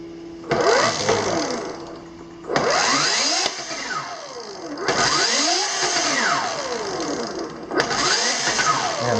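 Brammo Empulse TT electric motorcycle drivetrain under repeated throttle twists, a whining electric motor that sweeps up and down in pitch in several bursts, with chain and gear whir, close and loud.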